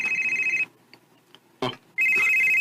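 A telephone rings for an incoming call, a loud close electronic trill that stops, leaves a short gap with a brief knock, then starts again.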